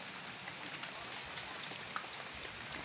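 Heavy typhoon rain pours in a dense, steady hiss in Sorsogon during Typhoon Jolina, continuous and loud with scattered drop impacts and no voices.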